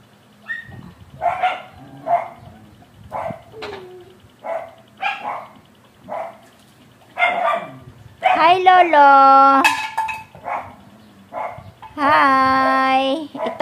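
Dogs bark repeatedly and close by, with sharp yips and then longer howling barks, while a person briefly speaks.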